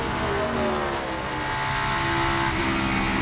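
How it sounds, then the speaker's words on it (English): A race car engine on the final lap, driven through the turns with early shifts and low revs, gives a loud, steady drone with layered harmonics that hold without a break and rise slightly near the end. "Motor still sounding good to me."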